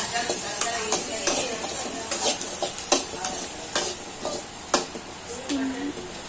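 Ginger and garlic frying in a pan as a spoon stirs them, soft sizzling broken by a series of distinct scraping strokes at an irregular rhythm.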